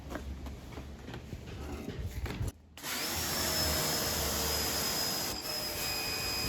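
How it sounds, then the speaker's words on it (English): Outdoors, a power washer hoses down a screen printing screen with a loud, steady rushing hiss of spray. The spray cuts out briefly, then resumes just as strongly. "I got this power washer."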